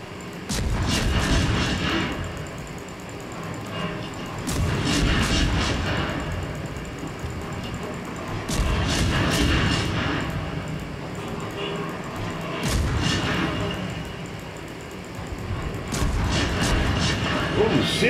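Warship guns firing in the naval game World of Warships, repeated heavy booms in clusters over a rumbling background, with a person talking in between.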